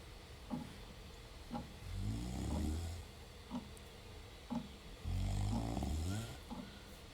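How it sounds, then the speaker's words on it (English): A character snores in the Jenny LeClue video game, with slow repeated snores, each a deep rumbling inhale followed by a short pause, at low volume over quiet background music. "Snoring, snoring, snoring."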